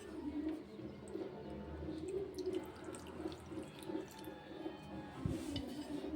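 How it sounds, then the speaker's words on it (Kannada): Milk poured over chocolate in a bowl for a biscuit cake, making a steady wet splashing and trickling sound nearby, with small squishy stirs mixed in. "ಈಗ ಇದಕ್ಕೆ ಸ್ವಲ್ಪ ಹಾಲು ಹಾಕೋತೀನಿ ರೀ"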